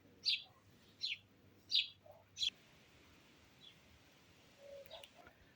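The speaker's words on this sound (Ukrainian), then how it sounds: "Горобці пасуться тут і шпаки. Ну і ворони, звичайно, полюбляють." Short bright chirps of sparrows and starlings in a cherry tree repeat four times in quick succession, then scattered fainter tweets follow over a quiet outdoor background.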